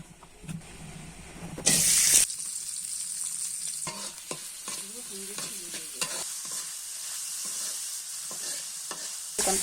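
Green chilies and onions fry in hot oil in a wok, a loud bright sizzle with a burst of hiss near the start, then steady frying broken by repeated scraping and clinking of a stirring spoon.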